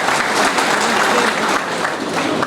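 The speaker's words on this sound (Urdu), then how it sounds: "ان کے لیے بھی تالیاں بجا دیں" An audience at a district ceremony in Talagang applauds in a dense, steady wash of clapping that stays loud and continuous.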